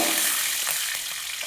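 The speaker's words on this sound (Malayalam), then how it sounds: "വെളിച്ചെണ്ണ ഒന്ന് ചൂടായി വരുമ്പോൾ 1/2 ടീസ്പൂൺ കടുകിട്ട് കൊടുക്കുക" Mustard seeds sizzle and crackle in hot coconut oil while a Kerala pumpkin and shallot theeyal is being made, giving a steady close frying hiss with scattered small pops and no voices.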